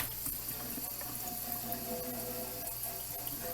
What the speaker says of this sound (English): So we're rinsing with warm water